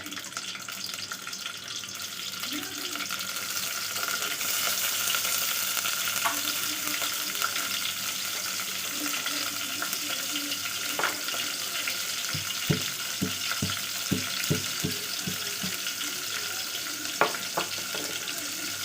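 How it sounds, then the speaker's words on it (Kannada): Onion and curry leaves fry in oil in a pan for an Indian mackerel dish, a steady loud hiss and sizzle with a run of sharp rhythmic taps from a utensil near the end. "ಎರಡು ಚಮಚ ಎಣ್ಣೆ ಹಾಕೋತೀನಿ. ಒಂದು ಸಣ್ಣ ಉಳ್ಳಾಗಡ್ಡೆ ತೊಗೊಂಡೇನಿ ಹಾಕೋತೀನಿ. ಒಂದು ಎಳೆ ಕರಿಬೇವು,"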